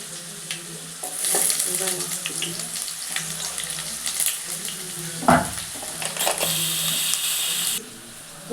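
Cloves, cinnamon and bay leaf hit hot oil for a mutton curry, giving a steady close sizzle and crackle with a sharp louder burst midway, then cutting off near the end; no talk.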